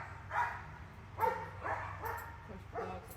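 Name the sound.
dogs barking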